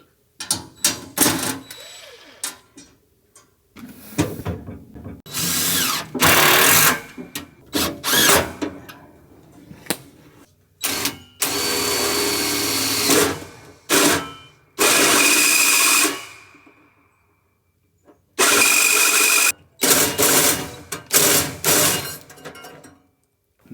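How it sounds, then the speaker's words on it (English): Power drill driving a hole saw bit meant for wood through a metal outdoor-rated wiring trough at an off-grid house build: loud, repeated bursts of grinding, whining cutting, each stopping abruptly with short pauses between. "Not the right style hole saw bit for metal, but we were able to make it work."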